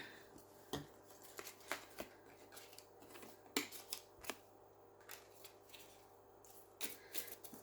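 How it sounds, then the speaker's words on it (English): Playing cards being shuffled and handled close by, with a series of sharp riffling snaps and soft slides, quiet between bursts and no talking. "going to shuffle the cards ready for Virgo's reading"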